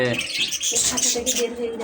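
Pet budgerigar-type birds kept for breeding chirp and twitter busily in a cage, a bright, scratchy chatter filling the short moment with no voice over it.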